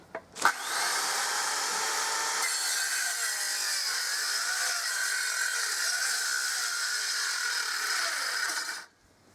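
A power saw cuts timber to size for beekeeping hive bases, with a sharp start followed by a steady, loud, continuous whine that runs about eight seconds before stopping abruptly.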